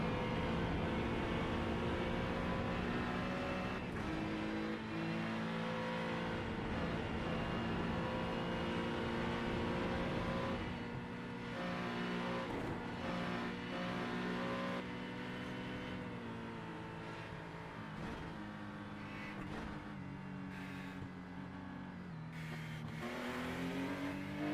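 Race car engine in the iRacing sim at Mount Panorama, Bathurst, Australia, during a 12-hour race, droning steadily with rising and falling revs as the gears shift, continuous and alone with no talk.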